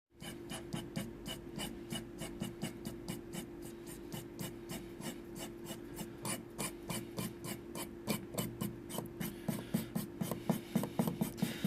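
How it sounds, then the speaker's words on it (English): A blade held at a slight angle scrapes across airbrushed paint on an illustration of realistic fur, making a steady run of close, dry rasping strokes in quick rhythm with no voices. "I'm angling the blade away slightly, so I'm scraping and not digging in"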